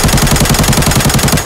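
Loud, rapid automatic gunfire in the mobile game Arena Breakout, one continuous steady burst, close and punchy, with an even rattling rhythm.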